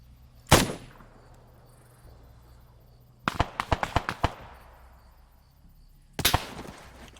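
Sharp bursts of gunfire in the video game Arma 3: a single loud shot, then a rapid string of about seven cracks, and another short burst, with quiet gaps between.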